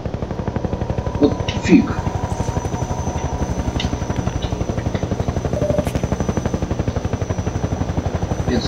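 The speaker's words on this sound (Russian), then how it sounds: "Это случайно не тот самый вертолет" Helicopter in the video game Entropy: Zero 2, its rotor throbbing in a steady rapid chop for the whole stretch, loud and close, with someone talking briefly over it.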